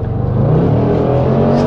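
A 2019 Range Rover Sport SVR in dynamic mode roars under acceleration, a loud, close, deep engine and exhaust note rising steadily, with no distinct pops standing out.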